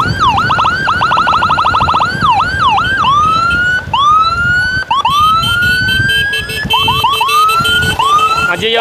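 Emergency sirens on an escort convoy for an ambulance carrying a head-injury patient: rapid yelping wails switch to slower rising whoops, then a hi-lo electronic pattern, loud and close, with traffic noise beneath.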